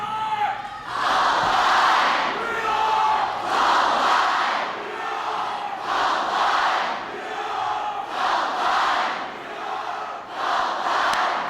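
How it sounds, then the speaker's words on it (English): A large crowd of students in the Columbine High School community cheers for President Bill Clinton in loud rhythmic waves of chanting and shouting that swell and recede repeatedly, filling the space with a roaring, echoing sound. "Do that cheer for me one more time."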